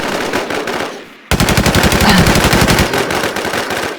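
Rapid automatic gunfire in the Infestation survival shooter: a short burst, a brief lull, then a long sustained stream of loud, close shots in a fast, even rhythm.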